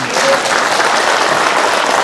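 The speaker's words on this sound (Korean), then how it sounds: "박수 한번 주시기 바랍니다." A rally crowd claps in a steady, dense burst of applause, loud and continuous for a couple of seconds.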